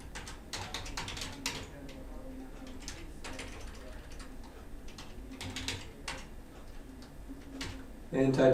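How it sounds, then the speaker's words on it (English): Fingers tap away at a computer keyboard while registration details are typed into a web portal, producing quiet, close, irregular clicks with a faint tick-like quality and a slight bump near the end. "They will type in all their information."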